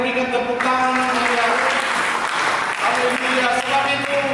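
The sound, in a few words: church congregation applause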